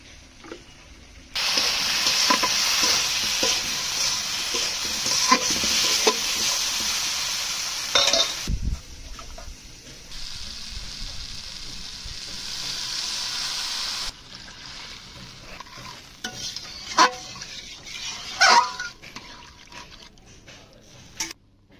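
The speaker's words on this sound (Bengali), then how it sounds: "ঝোলটা সুন্দরভাবে ফুটে গিয়েছে" Fish curry gravy with shing catfish bubbles and sizzles in a pan, a loud broadband hiss in long stretches separated by quieter gaps, with occasional clinks of a utensil against the pan.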